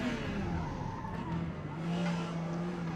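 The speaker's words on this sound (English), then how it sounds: "The tires are kind of cold and the car's kind of sliding around a little bit." A Porsche 956 race car in Forza Motorsport slides on cold tires during a qualifying lap at Hakone. The engine drones steadily with a faint tire squeal mixed in throughout, moderately loud.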